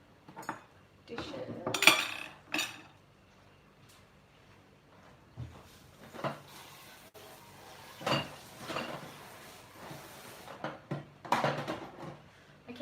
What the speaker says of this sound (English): Dishes.